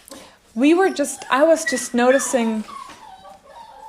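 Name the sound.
excited dogs whimpering and barking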